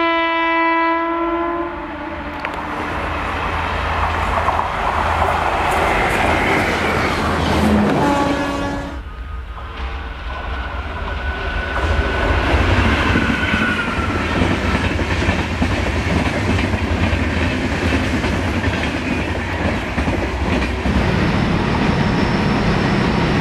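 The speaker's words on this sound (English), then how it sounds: "Tata Nagar WAM 4 at Taikal with the Aura Yeshwanthpur AC Express." Tata Nagar WAM 4 electric locomotive hauling the Yeshwanthpur AC Express at Taikal, India: a loud harmonic horn blast up front, a brief lull, then the steady rumble and clatter of coaches rolling close by.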